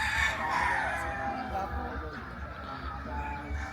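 A gamecock of a gray breed crows loudly and close by, one long drawn-out call with more fowl clucking beneath and some background voices.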